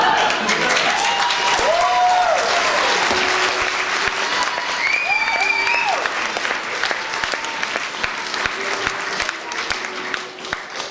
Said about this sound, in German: Jetzt fangt ihr auch noch an zu klatschen